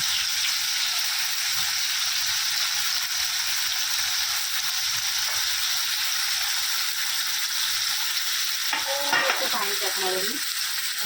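Fish fries in a garlic tempering in a pan, giving a loud, steady sizzle throughout, with scraping stirring sounds near the end.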